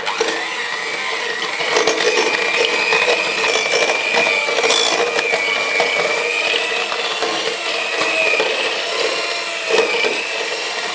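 An electric mixer creams packed dark brown sugar with butter for ginger snap dough, giving a steady, fairly loud whirring drone that runs unbroken and alone.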